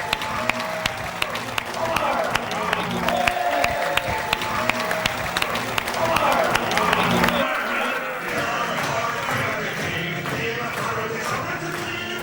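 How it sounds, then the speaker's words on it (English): A comedy club audience applauds and cheers as a comedian walks on stage, sustained dense clapping with whoops, fairly loud, with music or chatter underneath and a slight drop in intensity near the end. "give a huge round of applause as he comes to the stage"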